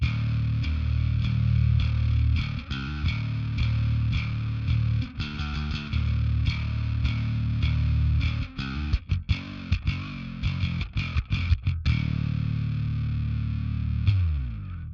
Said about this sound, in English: So this is how it sounds with the distortion.